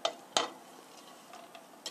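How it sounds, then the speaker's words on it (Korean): Onion, carrot and zucchini are tossed in a pan with a spatula, giving a few sharp close scrapes and clicks at irregular intervals over a faint background hiss. "주키니 같이 넣어서 볶겠습니다"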